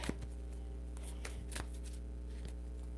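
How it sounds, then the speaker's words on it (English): Chakra oracle cards being shuffled by hand, a soft riffling and tapping with a few sharper clicks, close but quiet over a steady low hum, with no talking. "I'm shuffling these cards again because I want to clarify some of these chakra cards"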